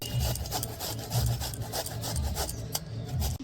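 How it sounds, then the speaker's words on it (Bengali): Raw beetroot grated by hand on a kitchen grater while making vegetable chops gives a close, continuous rasping scrape in quick rhythmic strokes, with no voices. "এবার আমি বিটটাকে ঘষে নিব"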